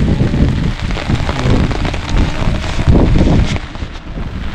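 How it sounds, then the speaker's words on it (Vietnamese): Heavy rain and gusting wind lash a hydroelectric reservoir lake, producing a loud, steady broadband roar with wind buffeting the microphone and no voices. "Mưa gió quá."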